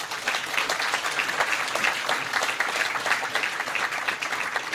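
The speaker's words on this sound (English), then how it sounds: "Let us all give a round of applause to our panelists" An audience at a UN Ocean Conference session on small-scale fisheries applauds its panelists, a steady, even wash of clapping from a room crowd at moderate level throughout.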